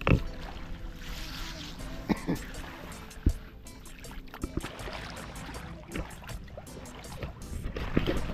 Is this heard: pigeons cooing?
no